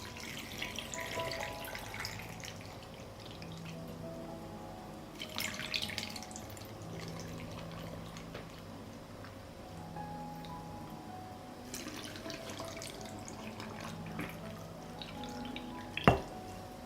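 Water is poured into canning jars over tomatoes, giving soft intermittent trickling and splashing bursts in a quiet kitchen, ending with a sharp glassy clink.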